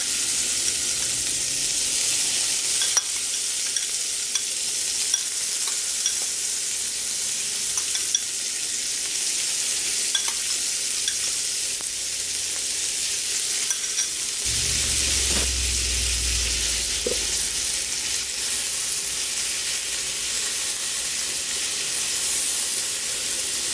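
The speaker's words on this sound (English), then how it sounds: "So let's just drop our lovely little scallops in the pan." Scallops searing in a hot pan give a loud, steady sizzle and hiss that runs throughout, with a lower rumble joining partway through.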